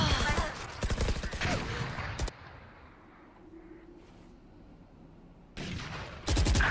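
Gunfire in a video game during a Twitch stream: dense, loud bursts of rapid shots open the clip, fall away to a quiet lull, then return strongly near the end.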